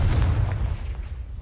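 A Confringo fire spell in Hogwarts Legacy lands as a short, heavy booming blast with a low rumbling decay, loud and close, with no voices.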